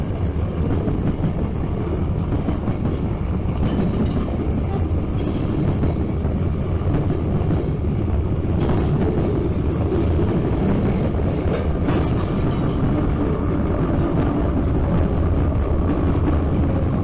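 A freight train with two distributed-power locomotives stacked mid-train rolls past steadily, a constant loud rumble of wagons and wheels with no talk.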